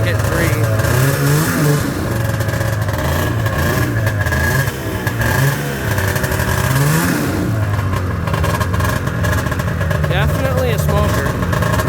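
A 1997 Arctic Cat ZR580 snowmobile with batteryless EFI revs up from a low idle during a run up, its engine note rising and falling steadily and loudly throughout, with speech over it.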